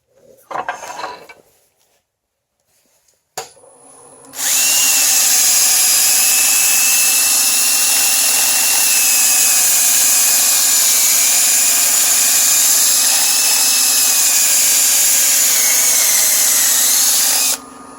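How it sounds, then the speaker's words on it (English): A wood lathe turns a holly wood pedestal dish, a steady loud whine with a sustained tonal hum after a few brief clatters, running continuously up close until it stops. "this holly is really cutting beautifully"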